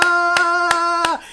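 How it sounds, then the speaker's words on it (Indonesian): Four sharp hand claps land in a slow, even rhythm over a sustained sung or played tone at a church worship service, with no talking. "Yang percaya kasih tepuk tangan, katakan haleluya."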